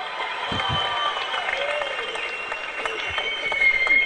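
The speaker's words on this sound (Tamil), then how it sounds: "முதல்ல எல்லாரும் ஜோரா ஒரு சமுத்திரக்கனி கைதட்டிருங்க." Applause from the crowd at a Tamil film audio launch event, a steady clapping wash with a few louder bursts, heard alongside music and some voices in a large hall.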